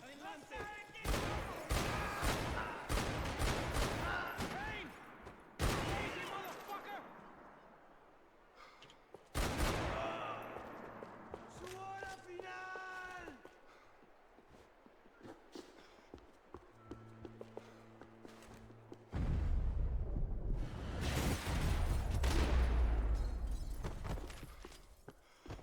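Gunfire in the game Max Payne 3, with bursts of sharp rapid shots at the start, scattered single cracks, quieter gaps, and a heavy rumbling passage near the end, a voice briefly present.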